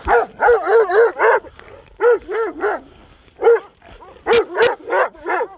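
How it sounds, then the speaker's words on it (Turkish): A dog barks and yips in quick bursts of three or four, pausing briefly between volleys, loud and close. "Ne havlayıp duruyorsun?"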